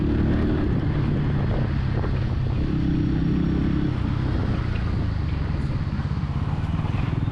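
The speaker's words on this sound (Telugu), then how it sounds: "అండర్ బెల్లీ ఎగ్జాస్ట్ నుంచి వచ్చేటువంటి ఆ ఎగ్జాస్ట్ సౌండ్ చాలా లౌడ్ ఉంటుంది" A 2026 Bajaj Pulsar N160 rides through city traffic, its underbelly exhaust giving a steady, throbbing engine drone mixed with strong wind rush from riding, continuous and close.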